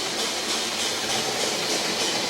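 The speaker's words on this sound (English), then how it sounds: "the brake will basically bring the locomotive to a halt" An OO-scale model locomotive on an MRC Sound & Power 7000 controller brakes with a steady, even hiss and a rushing noise that holds at one level, close by and alone.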